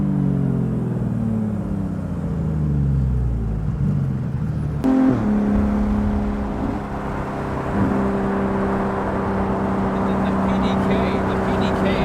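A straight-piped Porsche GT3 RS engine drones loudly, sweeping through rising and falling tones, then steadies into a sustained exhaust note after a sharp transient, with someone talking over part of it.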